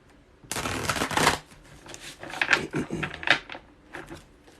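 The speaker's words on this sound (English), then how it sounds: "I'm gonna shuffle and get ready while you all start to filter in." Close-up tarot card shuffling: a quick riffle burst followed by several softer flicks and taps in uneven rhythm, with no talking.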